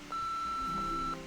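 A single steady answering-machine beep in the Nancy Drew video game The Haunted Carousel holds for about a second, clear and moderately loud over faint background hum.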